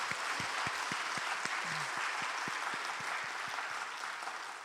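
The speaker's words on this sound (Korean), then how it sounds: "하나님께 영광의 박수를 올려드리겠습니다" Church congregation applauding during a special thanksgiving night service, a steady dense wash of clapping with sharp individual claps near, sustained and even throughout.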